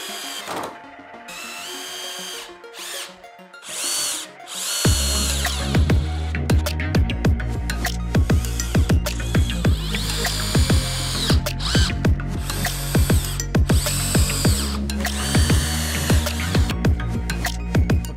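A power drill drives screws into a wooden trainer table, a loud, close, whirring motor in repeated bursts with ratcheting clicks and brief pauses between runs, and no voices.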